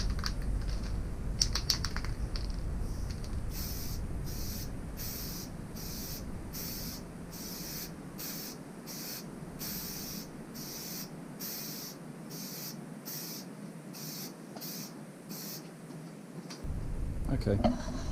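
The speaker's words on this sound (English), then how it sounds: "let's do some etch primer" Etch primer sprayed from an aerosol can onto the underside of a motorbike fuel tank, heard as a run of short, hissing bursts with brief gaps between them, close and steady.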